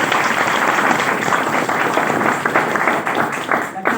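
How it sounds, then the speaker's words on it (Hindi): A seated audience claps together in a dense, steady burst of applause that fills the room, no single voice standing out. "बजाइए ताली अपने आप के लिए।"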